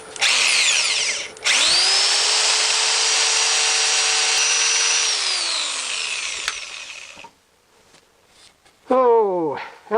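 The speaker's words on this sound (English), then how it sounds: "I'll be using my right angle drill here, and gonna have quite a bit of sanding to do" A right angle drill sanding a soft cedar wood bowl: a loud, close whine that ramps up, holds steady for about five seconds with a scraping rub, then winds down, followed by brief handling noises and a short second burst.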